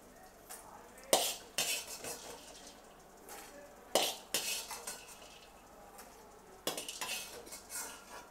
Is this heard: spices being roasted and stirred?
yes